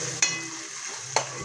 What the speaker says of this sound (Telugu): ఉల్లిపాయ ముక్కలు అయితే వేగుతూ ఉన్నాయి కదా